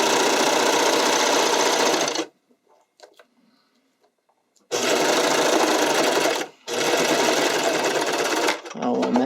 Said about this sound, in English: So stretch, pull it to the edge, and serge.